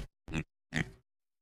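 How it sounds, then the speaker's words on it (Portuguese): Two short, separate cartoonish oinks from a cartoon pig in the Pocoyo children's cartoon, close and clear, with silence between and after them. "É um porco!"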